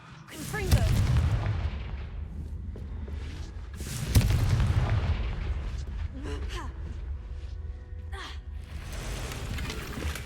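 Deep booming blasts from the Confringo spell in Hogwarts Legacy, two heavy low-end explosions a few seconds apart with rumbling tails and scattered debris sounds in between, moderately loud.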